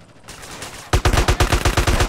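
Gunfire in the video game GTA San Andreas: after a quiet moment, a loud, rapid burst of regularly spaced shots rattles on steadily until the end.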